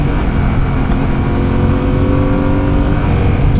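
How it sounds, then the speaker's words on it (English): A Fantic Caballero 700 scrambler motorcycle engine revving loud and close, a continuous throaty growl with steady rumbling exhaust pulses that hold throughout. "Let's give it some"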